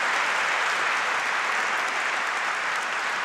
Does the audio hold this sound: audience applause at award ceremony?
yes